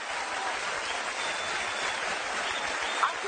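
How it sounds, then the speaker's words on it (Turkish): A studio audience on a Turkish television talk show applauds with a steady, dense wash of clapping that holds at an even level for a few seconds. "Ayşe Hanım bir alkış alalım önce Ayşe Hanım'a."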